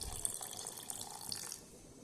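A short, quiet splash of water poured into a mixer jar while making butter, a soft trickling gush lasting a couple of seconds.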